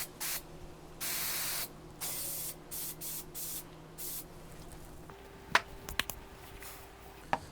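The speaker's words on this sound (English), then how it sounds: "I always make sure to spray my spray adhesive upside down to clear the nozzle out" Several short hissing bursts of a spray adhesive can held upside down to clear the nozzle, fairly close, followed by a few faint clicks and taps.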